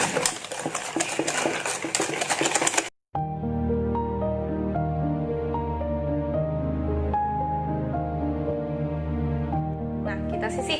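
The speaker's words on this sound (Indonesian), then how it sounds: "saya udah campurkan tadi telur kuning dan gulanya. Kita kocok aja seperti ini" Egg yolks and sugar are beaten by hand with a whisk in a bowl for Indonesian roti bluder, a rapid, dense clattering for about three seconds before it cuts off and music takes over.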